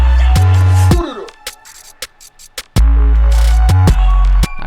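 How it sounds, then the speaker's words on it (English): A stripped beat plays with only drums and percussion and the melodic parts removed: heavy booming bass hits and sharp clicks, a sparse gap of ticking percussion, then the thick low drum pattern returns loud. "Kept in the percussion and the drums and just took out all the melodic parts."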